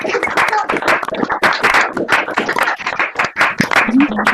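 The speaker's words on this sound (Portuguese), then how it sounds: "abrir os microfones, todo mundo, e bater as palmas para a professora Lourdes" Participants in an online meeting clap through their open microphones for a professor, a dense, uneven patter of claps from many separate connections lasting several seconds, with some voices mixed in.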